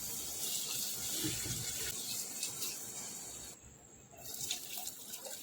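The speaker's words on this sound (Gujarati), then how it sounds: "હવે એમાં પાણી એડ કરીશું।" Water is poured into a pot of soaked rice for Gujarati masala rice, making a steady close splashing and running stream that dips briefly before picking up again, with no one talking.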